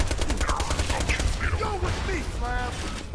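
Rapid bursts of gunfire in the video game Borderlands 2, dense and continuous, with whooshing effects and tonal game sounds layered over a heavy low rumble and no speech.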